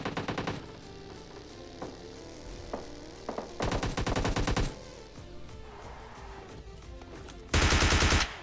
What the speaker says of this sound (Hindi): देखो सामने से कुछ गन साउंड्स आ रहे थे